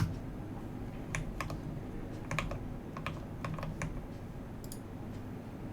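A custom-built mechanical keyboard being tried out in a key tester gives sparse, close, crisp keystrokes in irregular clusters over a faint background hiss, with no talking.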